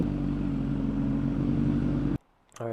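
A rare MV Agusta motorcycle idles with a loud, steady throbbing engine and exhaust rumble for about two seconds, then cuts off abruptly and a brief faint clatter follows.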